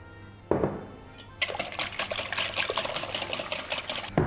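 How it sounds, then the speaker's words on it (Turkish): Eggs, milk, thyme and olive oil whisked in a bowl, a brisk, steady run of close rhythmic clinking and sloshing strokes after a brief knock, continuing throughout with no talk. "O da böyle bir yarım çay kaşığı kadar yeterli olur ve şimdi çırpacağız"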